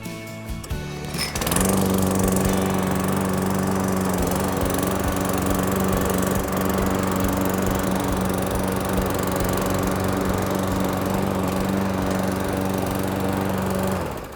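A Cobra MX460SPB petrol lawnmower engine starts with a pull and settles into a loud, steady close-up drone that holds without talk until the end.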